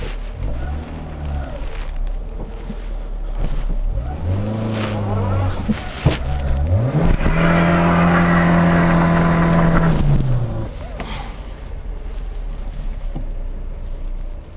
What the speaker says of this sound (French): Ça, c'est un bon burn.